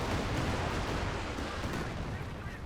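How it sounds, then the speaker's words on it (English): Panzerwerfer rocket artillery barrage in Company of Heroes 2, a dense, continuous roar of launches and explosions filling the whole stretch at steady loudness, with no clear gaps. "Now we have a Panzerwerfer opening fire."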